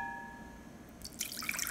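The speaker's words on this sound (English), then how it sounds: "You're just going to pour in your water" Water poured into a Le Creuset 2-1/4 quart saucepan, starting after a quiet pause and becoming a bright, splashing, trickling stream that grows steadily louder and close by.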